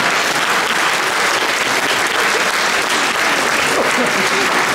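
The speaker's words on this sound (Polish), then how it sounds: "chyba będą brawa" Sustained, dense applause from a crowd, loud and even throughout with no pauses.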